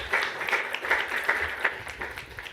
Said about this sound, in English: I ask you for a great applause